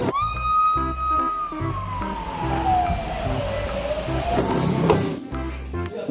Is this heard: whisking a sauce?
no